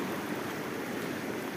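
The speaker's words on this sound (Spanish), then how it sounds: "viendo esta cantidad de agua que va bajando" The Cañaveralejo river flows at modest volume after rain, giving a continuous, even rushing wash of water, moderately quiet and uninterrupted, with no voices.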